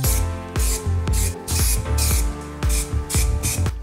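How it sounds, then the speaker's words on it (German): Spray can applying paint in broad passes over a Ford Focus MK1 car body, repeated bursts of loud hissing spray separated by brief pauses, close to the surface. "die Dose zu schütteln und dann hier großflächig aufzutragen"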